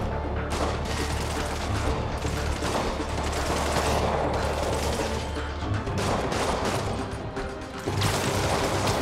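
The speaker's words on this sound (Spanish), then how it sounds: "Están aquí a tiros, macho, y no les veo." Dense, rapid gunfire rattles almost continuously inside a building in the Spider-Man video game, with bursts and booms layered over a steady low rumble, loud and close.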